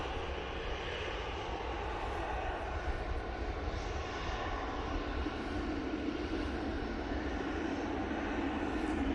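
A Eurowings airliner arrives at Manchester Airport, a faint, steady distant jet rumble and hiss that holds evenly without any clear rise or fall.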